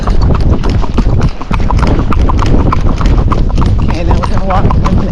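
Hooves of a ridden Rocky Mountain gaited horse clip-clop in a quick, steady rhythm, close and loud, with talk mixed in over the footfalls.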